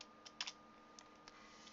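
A few light keystrokes on a computer keyboard while coding in Android Studio, soft, close clicks spaced irregularly over a quiet background.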